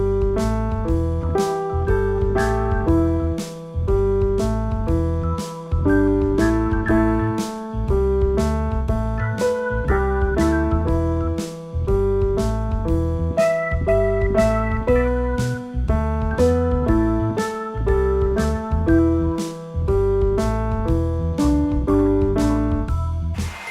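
Piano plays a rookie-level arrangement of a classic tune, a steady, bouncy bass riff with short right-hand chord stabs repeating in a regular groove, loud and close with no talking.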